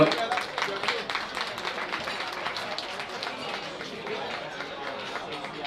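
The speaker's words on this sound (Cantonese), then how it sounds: "邀請顯龍師傅到台前先，俾掌聲唔該" An audience claps steadily and evenly to welcome a master forward at a Chow Gar martial arts discipleship ceremony, the applause sustained and moderately loud throughout with faint chatter beneath.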